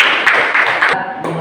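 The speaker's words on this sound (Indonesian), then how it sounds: "Tepuk tangan untuk teman kalian." Classroom applause for a student who answered correctly in a lesson on heat: a brief burst of clapping from a group of children, close and fairly loud, cut off abruptly.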